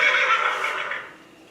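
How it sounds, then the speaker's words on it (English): Phone ringtone of a recorded horse neighing and whinnying, heard in a home kitchen during broccoli and celery soup cooking; a single loud whinny that fades out. "That wasn't a horse, that was my phone."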